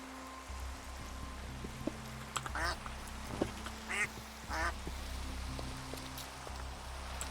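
Several Minecraft ducks quack in short scattered bursts over a soft, steady rain hiss, some calls louder and closer than others, with no talking.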